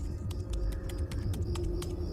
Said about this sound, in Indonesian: Iya, suara keyboard komputer.